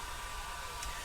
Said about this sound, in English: Sorry about the noise in the background, it's Mazzy drying her hair